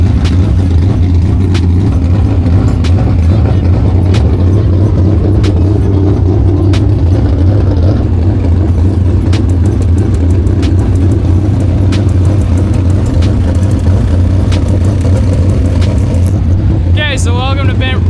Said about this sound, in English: Ta-da! Race car!